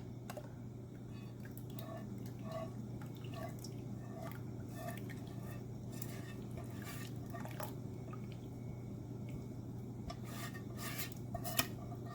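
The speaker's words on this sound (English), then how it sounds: "I'm going to pour this in here." Ice cream mixture of honey, vanilla and orange is poured into an ice cream freezer, making a very faint, soft trickle with light drips and rubbing noises over a steady low background hum.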